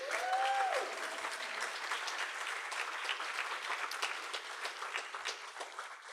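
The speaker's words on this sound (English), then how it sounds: "Can we have a round of applause?" Audience at a live podcast event applauding, a dense, even roar of many hands clapping that holds steady throughout, with a brief whistle-like tone at the start.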